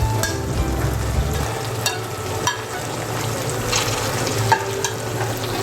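Fried mushrooms tipped into a hot frying pan for chilli mushroom sizzle loudly and continuously up close, with scraping stir strokes and occasional sharp clinks over a steady frying hiss.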